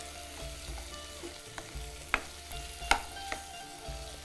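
Ingredients are sautéed in a pan over a low flame, giving a soft, quiet sizzle broken by several sharp clinks and scrapes of stirring, with no voices.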